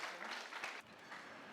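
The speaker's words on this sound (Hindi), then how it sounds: "जोरदार तालियों के बीच में" A short burst of applause from a crowd of police recruits at a training school, dense and steady, with a brief dip partway through before the clapping carries on.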